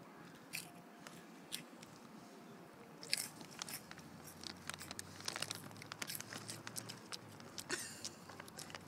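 A child bites and crunches cheese ring chips up close, with faint, brittle crunches and crinkles scattered at an irregular chewing pace over a quiet room.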